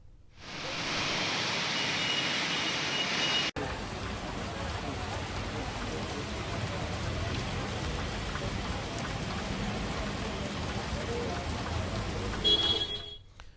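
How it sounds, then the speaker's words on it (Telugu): Heavy midnight rain pours down in Hyderabad in a dense, continuous hiss that stays loud and steady throughout, with no breaks. "అనేక ప్రాంతాల్లో భారీగా వర్షం కురిసింది"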